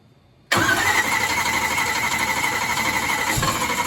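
A trophy truck engine being cranked in a garage catches abruptly after half a second of near silence, then carries on as a loud, steady mid-pitched running roar with a slight dip near the end.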